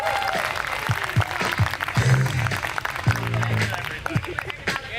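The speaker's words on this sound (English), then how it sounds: "Clap it up for Zoltan, you guys." Comedy club audience applauding a stand-up comedian at the end of his set, a dense wash of clapping with scattered cheers while a host speaks over it and music thumps underneath.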